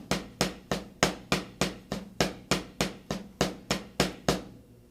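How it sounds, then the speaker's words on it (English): Double strokes on a drum set, displaced over an eighth note, ring out as about fifteen evenly spaced, crisp hits in a steady stream, close and loud with no other sound. "So you're basically displacing the double stroke over 1/8 note"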